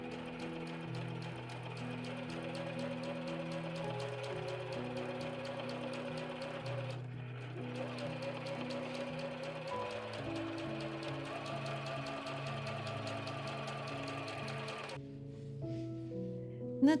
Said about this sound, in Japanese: キルト綿の端を縫います。